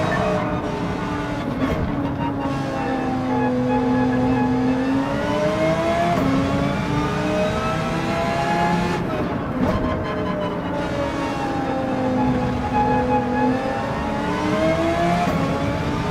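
Audi R8 Evo GT3 race car in a racing video game, its engine revving loud and steady with rising and falling pitch through gear changes, a brief lift near the middle before pulling hard again.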